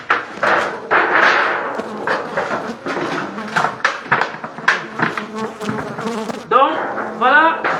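Dense, loud buzzing of a honeybee colony during a transfer into a hive, continuous and close, with occasional knocks and handling sounds mixed in.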